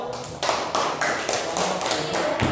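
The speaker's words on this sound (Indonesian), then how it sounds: "Berikan aplaus dulu buat kelompok 1" A group in a classroom lesson claps for another group, a run of sharp, evenly spaced claps that start right away and keep going, fairly close and without voices over them.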